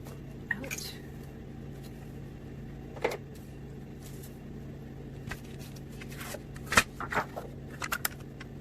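Paper being cut with scissors for an envelope junk journal: a few sparse, faint crisp snips and rustles spread over a quiet background hum, with no talking.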